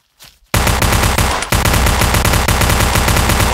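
Sustained rapid automatic gunfire from the blocky first-person shooter Blockade 3D, loud and continuous after a brief quiet start, with a short break near the middle before the rattling bursts resume.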